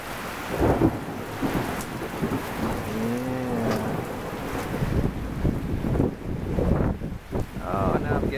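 Torrential rain pours down in a rural Pennsylvania storm, a steady loud roar of drops hitting surfaces with gusty wind buffeting the microphone and rumbles of thunder rolling beneath, close and continuous throughout.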